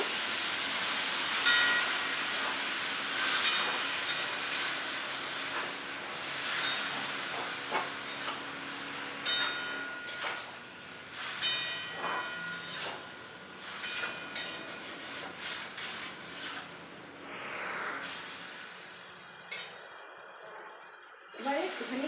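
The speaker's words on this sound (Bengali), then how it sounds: "এবারে এখানে জল দিয়ে এটাকে সিদ্ধ করতে আমরা বসিয়ে দেবো" Water poured into a hot pan of plantain to boil, giving a steady steamy hiss and bubbling that fades toward the end, with brief clinks along the way.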